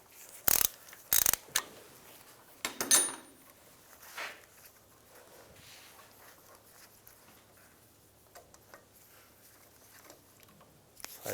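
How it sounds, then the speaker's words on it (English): Ratcheting 6mm hex socket backing a bolt out of a 1999-2005 Volkswagen Jetta during radiator fan assembly removal: a few sharp clicking bursts near the start, then quieter scattered mechanical taps over low room noise. "I'm going to take this bolt out."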